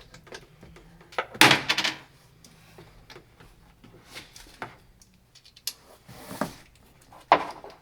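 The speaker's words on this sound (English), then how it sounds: "you gotta take the bolts out first" Bolts being backed out of a car seat bracket during a custom seat install in an LS-swapped BMW E36, heard as scattered clicks, creaks and ratcheting bursts with one louder clatter near the start, fairly close.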